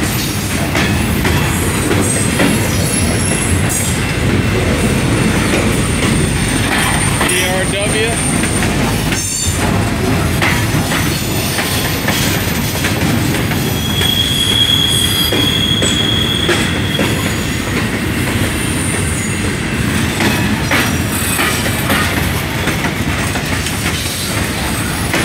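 A CSX freight train of empty cars rolls past, loud and continuous. A steady rumble and clatter of wheels on track carry faint squeals throughout, and a voice can be heard at times.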